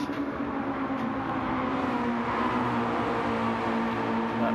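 Racing cars in the Mystery Inc racing league video game, a steady, dense engine drone from a close pack of cars running together, continuous and moderately loud with no talk.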